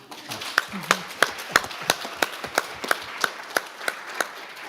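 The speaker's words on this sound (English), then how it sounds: "So I just want to give Oregon and Jackson County a round of applause, if you guys can help me." At a human trafficking summit panel, an audience claps in a slow, even rhythm, about a dozen sharp, distinct claps evenly spaced over a few seconds, with faint voices murmuring at the start.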